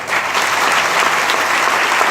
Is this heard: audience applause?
yes